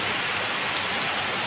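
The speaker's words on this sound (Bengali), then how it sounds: "প্রচণ্ড বৃষ্টি।" Heavy rain pours down in a dense, unbroken hiss that stays loud and even throughout, with no voices.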